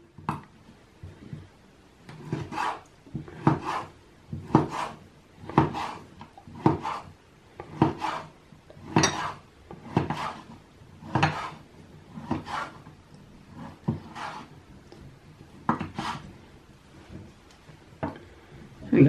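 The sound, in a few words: finely chopping smoked bacon with a knife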